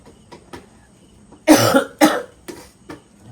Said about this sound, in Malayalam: ചുമയുണ്ട്, നല്ല ജലദോഷമുണ്ട് 2 ദിവസമായിട്ട്